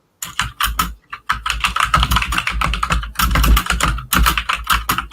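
Rapid, loud clicking from a mechanical keyboard comes in bursts of keystrokes with short pauses between them, close to the microphone and with no talk over it.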